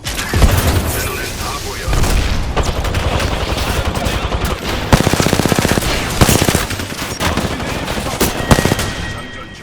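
Rapid automatic gunfire rattles in bursts during an Apex Legends match, loud and close, with booming impacts and game voice lines mixed in.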